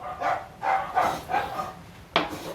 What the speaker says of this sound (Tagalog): Ay nako, maingay ang ating mga aso.